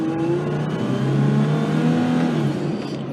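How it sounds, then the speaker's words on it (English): A truck engine idling under the hood with a worn belt tensioner, a steady close engine drone with faint whirring and swooshing tones that shift in pitch over a few seconds. "I hear a very interesting swooshing sound inside under the hood."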